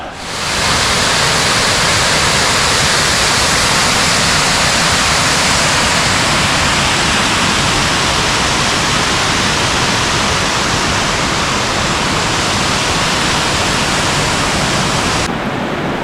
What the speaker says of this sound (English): So we're on the top of Sheep Cave Falls